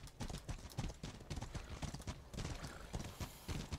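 Rapid clip-clop of horse hooves galloping in a video game, a steady dense pounding rhythm close and loud throughout, with no speech over it.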